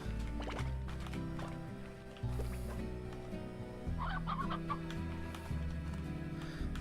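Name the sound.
chickens clucking in the video game Slime Rancher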